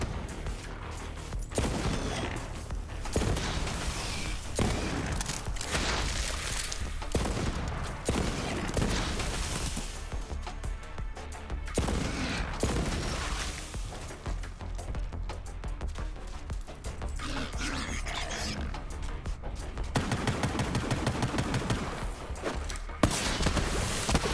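Hand cannon fire in the shooter game Borderlands 3 comes as repeated loud bursts of gunshots with irregular spacing, mixed with other combat noise and thuds over the full stretch, with no speech.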